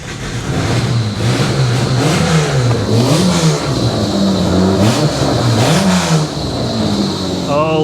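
An old high-mileage Mitsubishi Diamante engine revs loud and close in repeated rising and falling sweeps over a steady mid-pitched growl, running continuously throughout.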